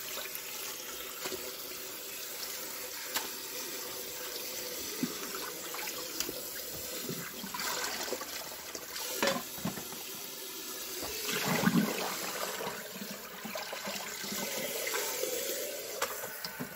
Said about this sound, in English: we're just going to rinse it until we get all the dirt and the sand out of it